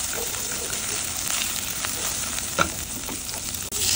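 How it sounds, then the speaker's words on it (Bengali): Ginger and garlic fry in oil in a pan for pulao, a steady, close sizzle broken by the occasional scrape or clack of stirring. "সুন্দর করে ভালো করে একটু ভেজে নিব, গন্ধটা যাতে চলে যায়।"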